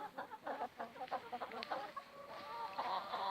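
Hens on a small poultry farm cluck near at hand in a run of short rhythmic calls, followed by a drawn-out, wavering cackle, with no talking.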